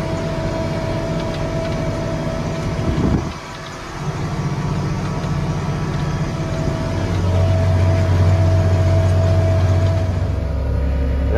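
A pickup truck and a skid steer pull away together, giving a steady low engine rumble that holds throughout and thickens into a deeper drone near the end, with no talking.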